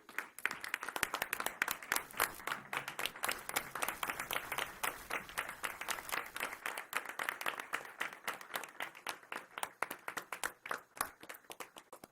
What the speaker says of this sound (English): let's give them a round of applause for all the work that they do